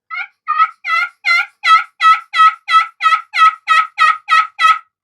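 An aluminum friction turkey call worked with a cedar and sassafras striker, giving a steady run of about thirteen loud, raspy yelps at an even pace, close up and with no talking.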